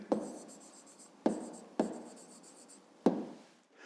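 Pen writing on paper during a fifth-grade maths exercise. Four short, scratchy strokes sound up close and fairly quiet, spaced about a second apart.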